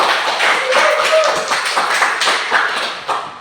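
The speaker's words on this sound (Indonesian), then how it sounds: "Kita berikan tepuk tangan terlebih dahulu" An audience applauds a speaker at a student achievement talk. The clapping is dense and sustained, a steady wash of many hands close by that fades toward the end.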